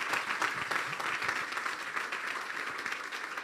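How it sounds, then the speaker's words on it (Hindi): Enthusiastic applause from an audience in a church at a Good Friday service, dense rapid clapping continuing steadily throughout, fairly distant and moderately quiet, with no speech over it. "ज़ोरदार तालियां बजाएंगे हम यीशु के जलाल के लिए"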